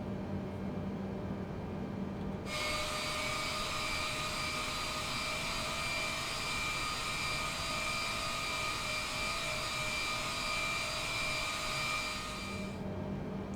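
Steady, even whine of Boeing 787-10 jet engines throttling up for taxi in Microsoft Flight Simulator, rising abruptly into a sustained high hum that holds for about ten seconds before cutting back, with no talking.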